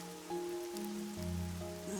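Rain falls steadily throughout the Rain Code Plus detective game, a soft continuous patter running beneath sustained tonal game music, fairly quiet and without any talk.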